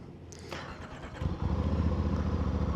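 A VOGE DS-800X Rally motorcycle with a 270-degree crank engine starts up, then settles into a loud, close, throbbing idle with an uneven pulsing beat.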